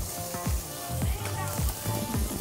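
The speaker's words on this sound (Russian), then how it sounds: "Для начала нам нужно обжарить лук." Chopped onion sizzling in a pan over medium heat, a steady fizzing hiss with faint crackles, heard alone and fairly soft throughout.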